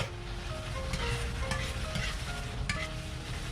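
Cooked pork slices are stirred in a wok with sauce over high heat, giving a soft sizzle and steady scraping, stirring sounds at close range with faint tonal music underneath.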